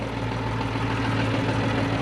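A farm tractor idling with a sweet corn planter hooked up, a steady low engine drone with a constant hum and no change in pace, heard close with no talk.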